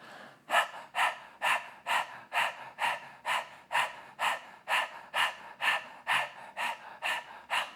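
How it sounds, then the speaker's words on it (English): Lion's breath yoga exercise with the tongue stuck out, a dozen forceful open-mouthed exhales in a steady rhythm, each a loud breathy rush about half a second apart, close to the mic with no talking. "open the mouth, stick out the tongue, and begin the lion's breath"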